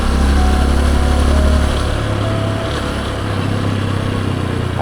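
Motorcycle engines on a forest path leading to Bega Falls, a steady loud rumbling drone with a low hum that holds for the whole stretch, and no talking.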